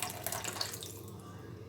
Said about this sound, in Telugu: ఇంకొంచెం వాటర్ వేసుకో.